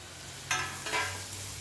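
Grated bitter gourd stir-fried in a hot pan, a soft steady sizzle broken by two short scraping stirs of a spatula, close and alone without talk.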